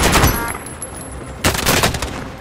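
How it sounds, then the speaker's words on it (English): Hostile gunfire in a video game comes as loud, close bursts of rapid automatic shots, one rattling volley at the start and another after a brief lull, with no speech. "Receiving hostile fire!"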